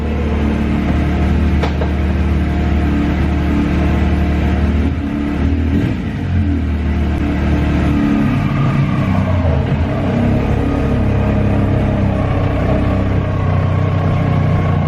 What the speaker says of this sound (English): I'm gonna put it in first gear, and then I'm gonna try and go up my driveway very slowly